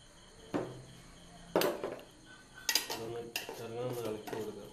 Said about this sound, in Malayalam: ഇത് നന്നായിട്ടൊന്ന് ഇളക്കുക, ഒന്ന് മിക്സ് ചെയ്യുക, മൊത്തം ഒന്ന് മിക്സ് ചെയ്യാനുള്ള സംഭവം.